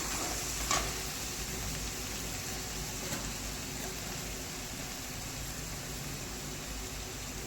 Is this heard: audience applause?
no